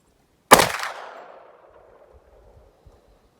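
A single sharp, loud Glock 10mm pistol shot fired outdoors at dusk, with a long rolling echo trailing off over about a second, followed by faint scattered thumps.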